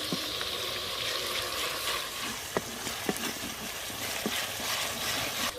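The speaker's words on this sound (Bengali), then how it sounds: "পেঁয়াজ আর রসুন বাটাটা ভালো করে ভেজে নেব।" Onion, garlic and ginger paste sizzles in hot oil with a constant hiss, broken by a few soft spoon taps and stirring scrapes, with no talk.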